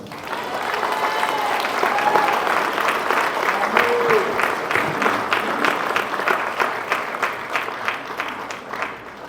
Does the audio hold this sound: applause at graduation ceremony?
yes